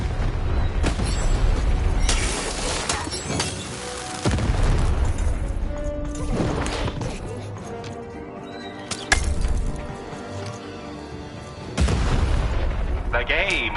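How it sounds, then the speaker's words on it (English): Cannon blasts in the video game Lost in Random come as several loud, heavy booms spaced several seconds apart, mixed with game sounds and voices talking. "the button to fire the cannon"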